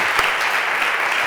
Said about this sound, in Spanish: Un aplauso, Martín.